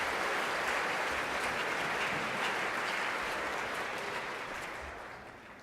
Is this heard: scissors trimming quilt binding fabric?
no